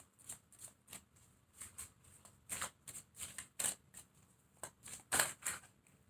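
Tarot cards being shuffled by hand, a series of quick papery riffles and flutters in irregular bursts, close and fairly faint, with no talking.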